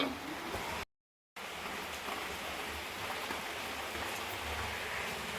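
Steady rain falling, a soft, even hiss at low level that continues throughout apart from a brief cut to silence near the start, with no voices.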